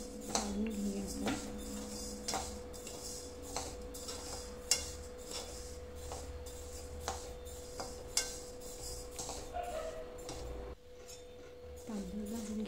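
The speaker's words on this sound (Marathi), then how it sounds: "आता बाजरी भाजत आहे." Pearl millet (bajri) dry roasting in a pan gives a faint, steady sizzle broken by regular metallic clinks and scrapes of a spoon against the pan, quiet and close.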